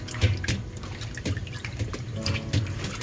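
Water from a tap splashes and trickles into a sink as seafood is rinsed in rice water, with irregular sloshes and drips at moderate volume and no one talking.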